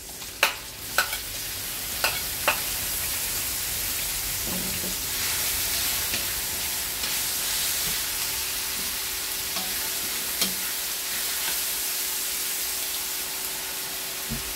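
Garlic and tomatoes fry in a pan for pinakbet, a steady soft sizzle running throughout while a spoon scrapes and clicks against the pan in scattered strokes, sharper at first and sparser later.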